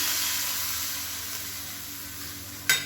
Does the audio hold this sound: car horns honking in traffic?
no